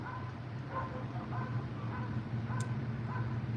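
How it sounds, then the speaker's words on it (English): A police dog barks repeatedly somewhere in the distance behind a self-storage complex, faint yaps over a steady low background hum. "So that's what we're hearing now, is the dog barking."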